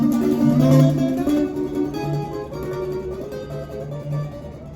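A gypsy jazz guitar plays a smooth run of evenly spaced notes, stepping through a whole tone scale at a moderate pace, close and clear with no talking.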